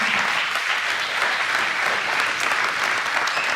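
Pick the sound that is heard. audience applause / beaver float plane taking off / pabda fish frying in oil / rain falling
audience applause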